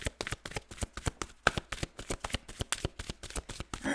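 Tarot cards being shuffled in quick, steady riffling bursts, close and fairly loud, with no voices over the rapid papery flicks.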